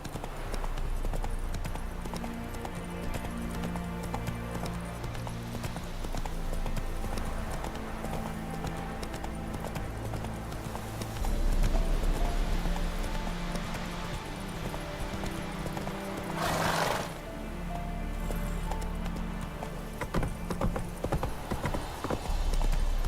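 Roach the horse galloping in The Witcher 3, with steady, rapid hoofbeats running throughout over a low game-world backdrop, and a brief swell of louder noise midway.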